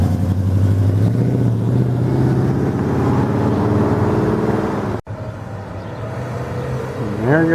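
Cars accelerate away from a car cruise on Grand River, engines droning and rising in pitch as they pull off, one after another, with a short sharp cut partway through and a revving climb near the end.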